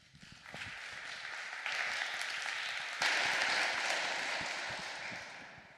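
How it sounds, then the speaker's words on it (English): Audience applause for a presenter at a late Saturday talk, a dense wash of clapping that swells within the first second, grows fuller twice and then eases slightly toward the end, with no speech over it. "so an applause for Matt, please."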